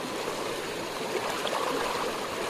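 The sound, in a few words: murky stream of flowing water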